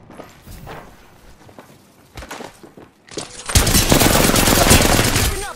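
Gunfire in Apex Legends: sparse shots and footsteps at first, then a sudden loud, sustained burst of rapid automatic fire with close impacts through the second half.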